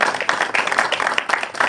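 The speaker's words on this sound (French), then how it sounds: "Oui, vous pouvez l'applaudir." A seated audience at a farming debate in Lamasquère applauds a young market gardener, a steady patter of many hands clapping at close range throughout.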